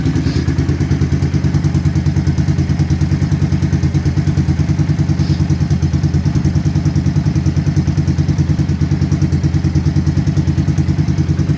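A Rusi 250 motorcycle engine, its block freshly replaced and still tight, runs with a loud, close, steady thumping putter and a fast even beat, its mechanical clatter continuous throughout.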